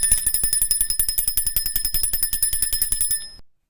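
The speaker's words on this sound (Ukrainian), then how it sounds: "Так, це малесенький дзвіночок." A small bell jingles rapidly and continuously in a steady shaking rhythm for about three seconds, bright and close, then stops.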